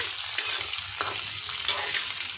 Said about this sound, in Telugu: ఈ విధంగా మీడియం ఫ్లేమ్ మీద ఈ పీసెస్ని ఫ్రై చేసుకుందామండి.